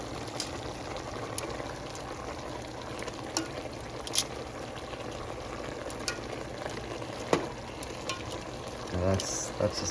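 Tomato and meat spaghetti sauce cooks in a pan at home, giving a steady, faint sizzle and bubble with a few sharp clicks and clinks of utensils throughout.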